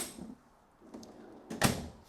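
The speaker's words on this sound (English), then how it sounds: "You get a little drawer below right here." A kitchen drawer in a 2022 ATC Game Changer Pro 4023 toy hauler fifth wheel slides open, a short close-up scrape and thump that ends a quiet stretch.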